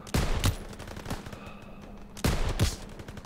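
Machine gun fire in Call of Duty: World War II, two loud short bursts of rapid shots a couple of seconds apart, with scattered single reports and battle noise between them.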